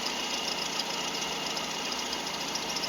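A car engine idles steadily up close during a valve clearance check, a continuous mechanical hum with faint rapid ticking from the valvetrain, no voices.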